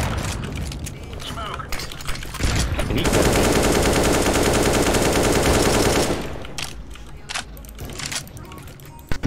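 Automatic gunfire in CS:GO, a loud sustained burst of rapid shots in the middle, with scattered single shots before and after and players talking over the action.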